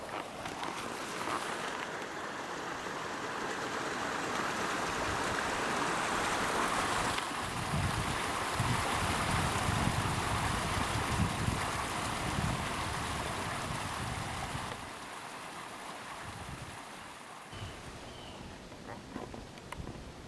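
Creek water rushes steadily in the woods, a broad continuous wash that stays close and loud for most of the stretch, with wind noise buffeting the microphone and a slightly quieter final few seconds.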